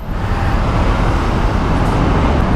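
A Vespa scooter accelerates as a steady broadband engine and road roar, loud and close, heard from on board with wind rush and no clear rise in pitch. No talking.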